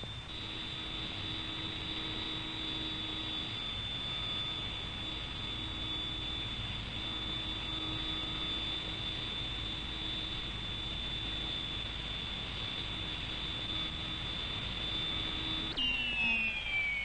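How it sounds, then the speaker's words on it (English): Jet fighters landing and taxiing at RAAF Butterworth, a steady high-pitched turbine whine over a continuous rumble that holds level for the whole stretch, moderately close. "Landings at Butterworth are always against the outline of the ever-watchful radar, and then the fighters are quickly marshalled into the tarmac area"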